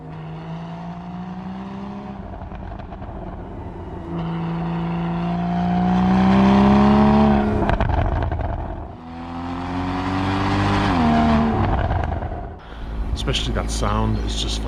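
A Porsche 981 Boxster's flat-six engine revs and accelerates in long rising pulls, loud and close, with throttle lifts between surges and a brief rattle at the end.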